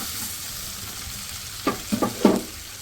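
Garlic and ginger frying in a pan for Hyderabadi bagara baingan, a steady soft sizzle joined near the end by a few scraping stirs of a spoon, close and moderately loud.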